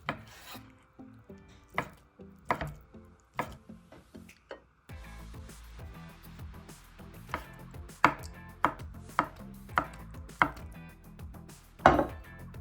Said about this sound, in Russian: Нарезаем язык произвольно, любыми кусочками, лишь бы вам нравились.